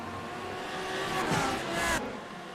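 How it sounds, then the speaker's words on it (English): GTD race cars, Lamborghinis and BMWs, roar into turn 1 at Daytona, a loud rising engine note swelling as they pass and then cutting away, with crowd and track ambience beneath. "That's a loud pitch to them things. Lamborghinis and BMWs."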